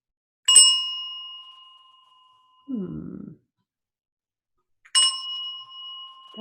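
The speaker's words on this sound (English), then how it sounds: "could you please ring your bell?" An inexpensive handbell rings a single musical note, slightly flat, struck twice several seconds apart; each clear, ringing tone decays slowly, with a brief low rustle between the strikes.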